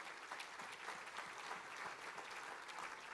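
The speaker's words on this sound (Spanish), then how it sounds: "Denle un aplauso al Señor." Congregation applauding during a Christmas church service, steady dense clapping that fills the whole stretch without break, close and even in loudness, with no voices on top.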